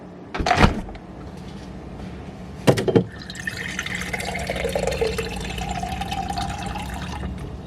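Two sharp knocks of a container come first, then water pours and fills steadily to mix a mango drink powder, a continuous splashing stream that rises in pitch as it fills.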